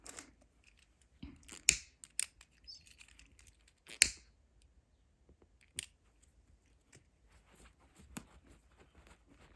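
Scissors snipping off a loose end of crochet yarn while finishing a crocheted bag, a few crisp close-up clicks scattered among soft handling noises in an otherwise quiet room.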